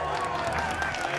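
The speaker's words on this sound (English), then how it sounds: "And there's Aaron's family giving him a standing ovation." Family members giving a standing ovation at a World Poker Tour final table in Brooklyn, a brief dense patter of applause and crowd noise at steady, moderate volume.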